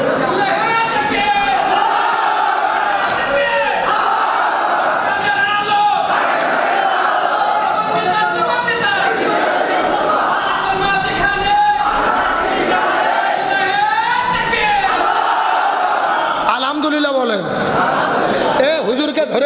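Large crowd at a sermon raising loud, overlapping shouts of the takbir, dense massed voices filling the space throughout, swelling in waves with a few louder collective bursts near the end.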